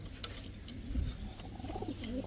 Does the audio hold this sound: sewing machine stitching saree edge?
no